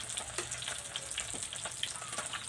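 Fish wrapped in banana leaves sizzles and crackles on a grill, a steady close hiss with scattered small pops throughout and no talk over it.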